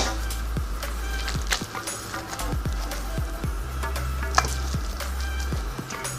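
Thick black bean and veggie stew with rice mixed in a bowl, a run of repeated spoon knocks and scrapes over a low steady hum, fairly close, no talk.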